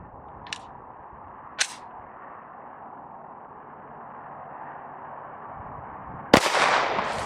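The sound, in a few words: pistol gunshots at a target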